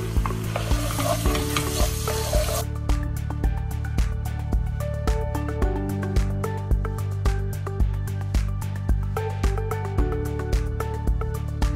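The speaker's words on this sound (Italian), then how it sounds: "Inserisco seppie e calamari e porto in cottura." Cuttlefish and squid cook in a pan with extra virgin olive oil, starting with a loud hissing sizzle that drops back. A steady regular percussive beat, likely music, carries on over the rest.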